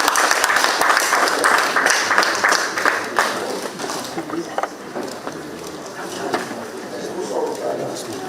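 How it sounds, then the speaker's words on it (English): An audience applauds and claps at a formal welcome for the Nigerian President in Ijebuland, steady crowd clapping that thins and fades over several seconds, with some voices in the background. "If we are clapping, we can do better."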